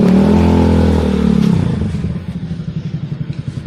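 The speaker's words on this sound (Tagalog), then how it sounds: "narinig ko na yung motor" A motorcycle engine rumbles up close, then settles into a rhythmic low chugging idle with clattering pulses.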